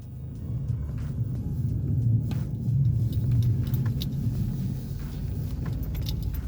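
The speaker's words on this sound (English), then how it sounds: "let's start the car, let it get warmed up" Car engine idling while warming up on a fine day in Whitehorse, a steady low rumble that swells slightly then settles, close and continuous, with a few light jingles on top.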